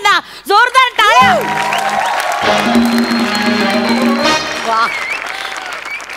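Applause from a comedy show audience for an award, steady clapping that swells and holds, while a voice exclaims over the start and sung musical tones ride on top.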